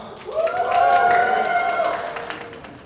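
A live audience at an improv Dungeons & Dragons show at an anime convention cheers and applauds, with a sustained whooping cheer over scattered clapping that swells, holds for about two seconds, then fades.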